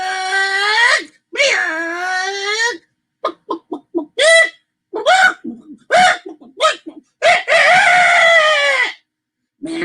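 A storyteller imitates a rooster crowing with his voice, giving loud, drawn-out rising-and-falling calls at the start and end, with bursts of clucking and choppy vocal sounds in between.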